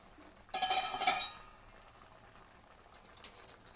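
A metal lid is lifted from a pot of boiling chickpeas for ghugni, giving a bright clanking ring followed by a faint simmer and a light clink near the end.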